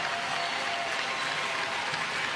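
Volleyball crowd in an arena applauding and roaring at Nebraska's championship point against Iowa in a women's college match, a loud sustained wash of clapping and cheering with no announcer talk over it.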